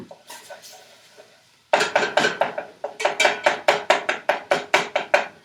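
A utensil bashes ground meat as it cooks in a pan, first softly, then in a loud, regular series of sharp, close knocks about twice a second.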